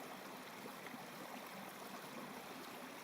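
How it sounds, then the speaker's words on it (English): Creek water flowing beneath ice on a winter hike along Prairie and Powderface Creek in the Canadian Rockies, a faint, steady broadband gurgling rush with no voices. "Watching the water flow underneath the ice like that"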